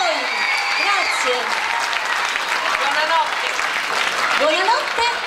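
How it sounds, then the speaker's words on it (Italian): Audience applause at a rhythmic gymnastics school recital and award ceremony, sustained even clapping with some cheering over it, fairly close and loud. "un altro applauso per lei"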